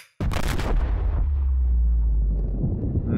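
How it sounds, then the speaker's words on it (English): A massive ship explosion erupts in the Subnautica game, a sudden loud blast that becomes a long, deep, rumbling roar holding steady for several seconds. "There's the ship up there. Massive explosion."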